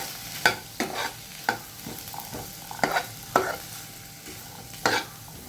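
Bhogi vegetable curry being stirred in a pan, a series of distinct scraping strokes of spoon against metal at irregular intervals over a faint low sizzle, no voices.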